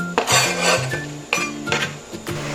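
A spoon scrapes and clinks against a metal pot in repeated stirring strokes through kuey teow soup with fish balls and mustard greens, close by, with a low background hum and no talking.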